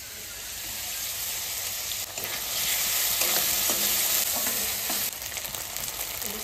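Ground spices stirred into fried onion paste in hot oil: a loud, close sizzle that swells midway, with repeated scraping strokes of the spoon, no voices.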